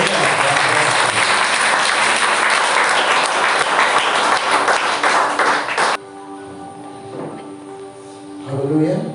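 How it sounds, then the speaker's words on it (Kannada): A church congregation gives loud, dense applause for Jesus, sustained for several seconds before cutting off abruptly. A quieter stretch of music and voices follows. "ಯೇಸುವಿಗೆ ಗಟ್ಟಿಯಾಗಿ ಒಂದು ಚಪ್ಪಾಳೆ"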